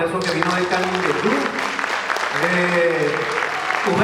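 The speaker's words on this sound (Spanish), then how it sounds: "Fuerte aplauso para Nelson, que vino del Canindeyú" Loud, continuous audience applause for Nelson at a concert, with steady clapping throughout, voices over it and a sustained musical tone underneath.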